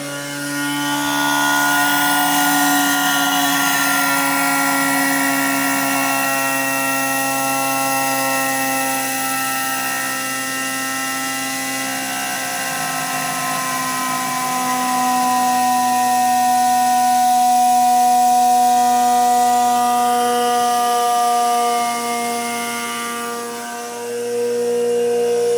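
Reaction turbine in a laboratory spinning at high speed, around 14,000 RPM, giving a steady loud whine with sustained tonal harmonics that drift slightly in pitch, mixed with rushing airflow noise and no talk.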